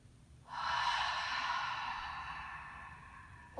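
A deep, full breath during a pause in a restorative yoga session, drawn in steadily and held as a long soft airy rush that slowly fades, with a faint catch at the very end.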